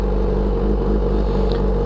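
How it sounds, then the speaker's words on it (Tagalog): Loud, steady low rumble of a motorcycle engine idling while warming up, constant and close with no change in pace over the short stretch. "Painit lang tayo ng bike."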